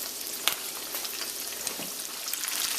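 Caribbean-style chicken fingers frying in hot vegetable oil, a close, steady crackling sizzle with small pops scattered throughout and no talking.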